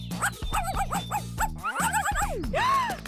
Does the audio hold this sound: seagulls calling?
no